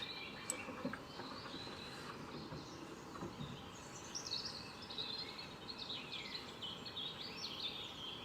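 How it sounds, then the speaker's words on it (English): Birds on a roof give faint, scattered chirping and twittering, soft high calls clustering in the latter half over a low, steady background hiss. "Yes, it is birds."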